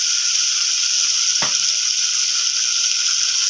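Ginger, cumin and five-spice paste fries in a pan with a steady, even sizzle throughout, broken once by a short clatter partway through.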